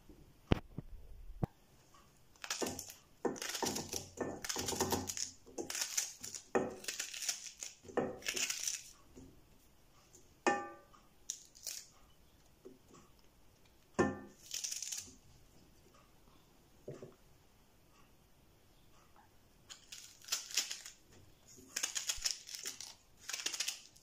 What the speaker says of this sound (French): Je vais d'abord les découper en petits morceaux